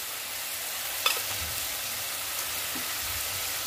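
Spices with turmeric, salt, sugar and red chili sautéing in a pan for a drumstick dal, a soft continuous sizzle with one sharp utensil clink early on and light stirring after.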